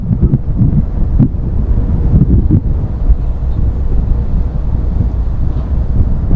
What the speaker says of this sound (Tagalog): Tapos mahangin, may bagyo.